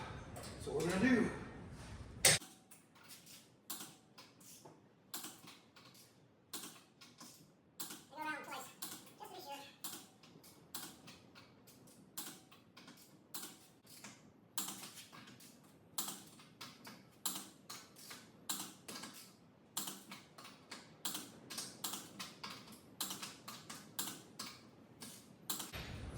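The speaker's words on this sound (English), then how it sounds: "last step on any kind of repair for when you have the wheels and tires off is torquing the wheels properly" Wheel lug nuts on a 2011 Ford Mustang are tightened with a torque wrench in a star pattern, giving a string of close, sharp ratcheting clicks and ticks in bursts, with short pauses between nuts.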